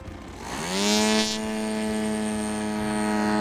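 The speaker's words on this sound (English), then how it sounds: "The students worked in teams to flight test a large remote-controlled model airplane." A large remote-controlled model airplane flies close by during a student flight test, its engine a loud, steady propeller drone with strong harmonics that rises in pitch as it accelerates, then holds a sustained buzzing whine.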